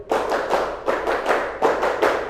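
A group claps in a rhythmic classroom clapping game, with bursts of hand claps repeating in a steady pattern over about two seconds, close and moderately loud.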